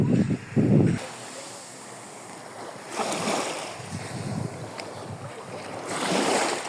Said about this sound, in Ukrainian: Океан спокійний